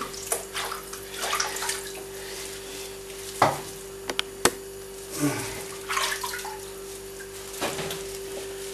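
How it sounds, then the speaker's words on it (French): Cooked blood sausage is plunged and rinsed in cold water, giving close splashing and sloshing with a few sharp knocks, uneven bursts rising and falling throughout with no talking. "Je le plonge dans l'eau froide ici. Pour le rincer et stopper la grise."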